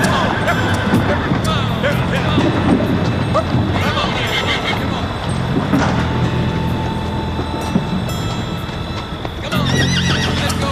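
Wild horses neighing and whinnying amid clip-clopping hooves, a busy, continuous herd sound with a rumbling backdrop like rail cars, and voices talking faintly underneath.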